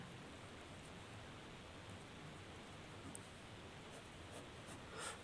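A pen scratches steadily across paper while a maths solution on triangles is written out, a faint, continuous close-up rustling scrape with small ticks of strokes and no speech.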